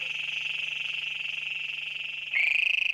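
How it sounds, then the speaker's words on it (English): A Great Plains Toad gives a long, loud, continuous high-pitched trill, close by and alone, briefly shifting pitch near the end before carrying on. "You are listening to the Great Plains Toad."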